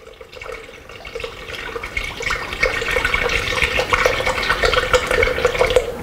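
Light oat milk pours into a container for a protein drink, a continuous close splashing and gurgling flow that grows louder and fuller over several seconds.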